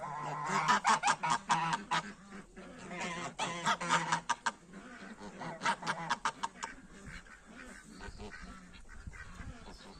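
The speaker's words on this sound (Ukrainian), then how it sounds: "Гуси ходять, товчуться." A group of geese honk in repeated bursts, fairly close, with short rhythmic calls breaking into quieter gaps and resuming.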